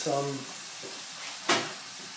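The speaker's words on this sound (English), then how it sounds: "we're going to stir that round, slightly soften the onion" Onions softening in a frying pan as they are stirred round, a low sizzle with one short scrape of the spoon; a voice hums briefly at the start.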